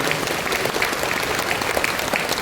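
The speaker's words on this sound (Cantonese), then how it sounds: "我希望大家咧都用個掌聲係多謝我哋呢個各位嘅同學。" Steady, dense applause from a graduation ceremony audience fills the whole stretch at an even level, with no voices rising above the clapping.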